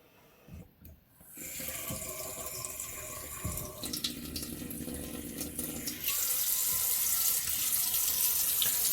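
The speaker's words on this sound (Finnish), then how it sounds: "Seuraavaksi lisätään vesi." Cold tap water runs from a faucet to fill a coffee maker, a steady close rushing splash that thickens and grows brighter as the flow increases, heard without speech.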